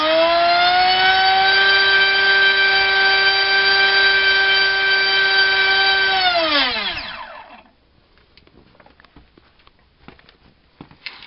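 An electric motor runs at half throttle on a 3S 2200mAh 40C LiPo battery during a bench test, giving a loud, steady high-pitched whine for about six seconds before spinning down and falling quiet, followed by faint clicks.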